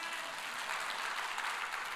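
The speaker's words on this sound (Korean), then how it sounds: "그럼 영광의 박수 올려야죠." A church congregation gives a sustained round of applause, dense steady clapping filling the hall evenly throughout at moderate loudness.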